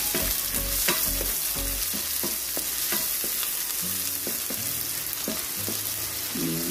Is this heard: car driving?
no